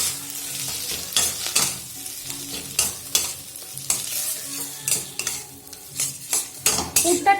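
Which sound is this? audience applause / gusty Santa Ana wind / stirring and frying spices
stirring and frying spices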